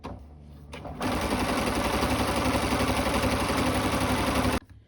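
Sewing machine stitching lines of elastic shirring into gingham fabric for a summer dress, a close, steady, rapid mechanical whir running about three and a half seconds before stopping abruptly.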